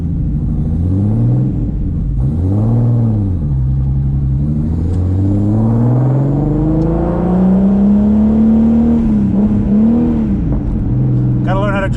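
Turbocharged VR6 engine swapped into a B5 Audi A4 on a drive: loud, close engine note rising and falling through several rev sweeps and gear changes, droning steadily throughout.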